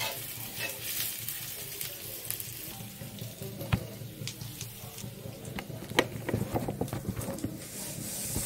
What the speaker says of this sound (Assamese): কেৰাহীত আদা নহৰু পেষ্ট দি দিছোঁ